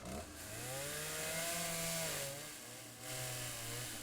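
Chainsaw in the video game Threads of Destiny, its engine droning steadily with pitch rising and falling as it revs, two short dips in between, moderately close with no talk over it.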